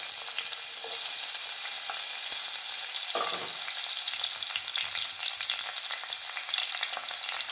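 Finely chopped onions frying in hot oil in a kadai, a steady close sizzle and crackle throughout with a brief stir or scrape partway through, no talking.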